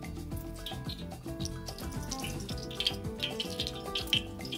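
Olive oil poured into a big, already hot paella pan, giving a close, continuous liquid rush and sizzle that holds steady for several seconds with small crackling spikes near the end.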